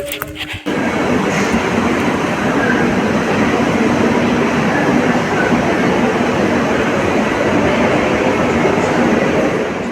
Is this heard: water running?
no